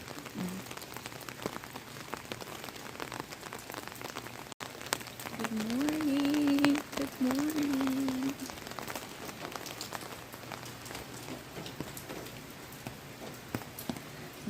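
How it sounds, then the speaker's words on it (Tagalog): Steady patter of rain on a surface with scattered drop ticks; a short tonal sound, like a voice or whistle, briefly rises over it midway. "Ulan na naman."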